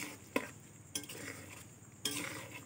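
Garlic for a homemade pickle being fried and stirred in a pan, with a steady low sizzle under three sharp utensil scrapes and clinks against the pan.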